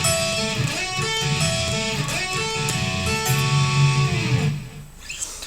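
Electric guitar plays a slower, repeated section of a solo, with sustained bent and slid notes recurring in a steady cycle. It is loud and close, with no talking, and cuts off near the end.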